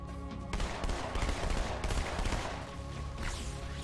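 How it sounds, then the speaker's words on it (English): Battle rifle fire in Halo 2 crackles in dense, overlapping bursts amid other combat noise, loud and continuous over a few seconds. "Battle rifle."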